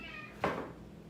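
A cat gives a single short, clear meow close by, with no talk around it.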